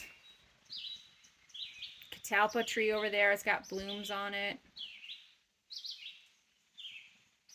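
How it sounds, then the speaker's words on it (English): An outdoor bird chirps loudly in a breeze, with bright repeated calls, then someone speaks over it, and shorter chirps follow once he stops. "there is some bird that is loudly chirping and just announcing joy to the world"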